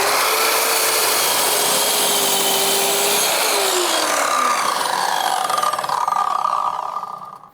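A power saw cuts through a wood board for garden room walls, loud and continuous at close range, with the motor pitch shifting during the cut before it winds down at the end.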